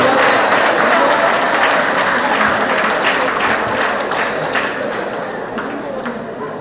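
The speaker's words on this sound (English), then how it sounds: "Give him another round of applause." An audience at a monthly community centre meeting applauds, a loud, steady burst of many hands clapping that slowly fades toward the end, with a voice faintly underneath.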